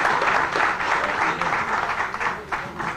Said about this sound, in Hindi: एक बार गोपाल जी के लिए भी एक बार ताली बजाएं